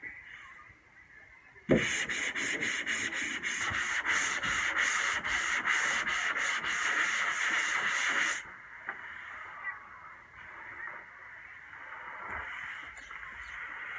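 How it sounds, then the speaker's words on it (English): Rapid back-and-forth hand sanding scrapes loudly across a surface for several seconds, then stops abruptly, leaving quiet rustling and faint handling noises. "Got that whole side sanded down pretty easy."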